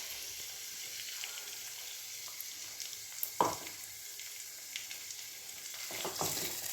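A spice masala for chhanar dalna fries faintly in oil with a cashew, poppy seed, melon seed and raisin paste. A soft, steady sizzle is broken by a single clear stirring scrape midway and a few light clinks.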